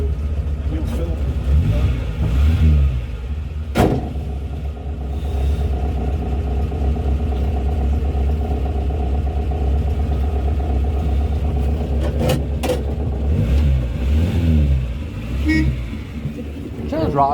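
A Morris Minor car engine revs while being driven, a steady close rumble with a few sharper bursts and rising revs, while people talk over it.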